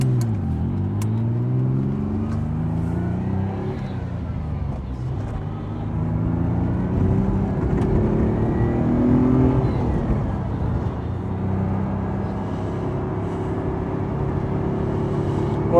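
A 1974 Ferrari 246 GTS Dino driven along back roads, its engine loud and close, rising and falling through repeated gear changes and accelerations.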